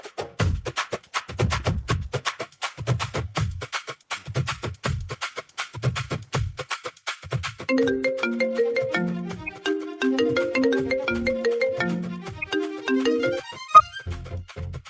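A mobile phone ringtone plays: a repeating rhythmic pulse pattern, then a bright melodic tune of quick notes, loud and close with no talking.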